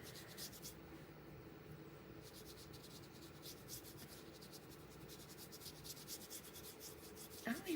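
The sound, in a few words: paintbrush zigzagging on canvas while painting sand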